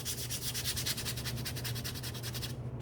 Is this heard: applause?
no